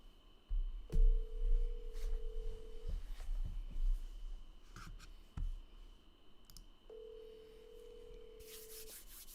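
A telephone ringback tone on an outgoing call repeats as a steady two-second ring with a long pause between, heard alongside faint household rubbing and clicking sounds near the line.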